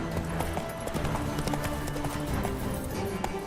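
Roach, a horse in The Witcher 3, gallops with rapid, steady hoofbeats and dense clip-clop thudding throughout, close and loud, with a faint whinny mixed in.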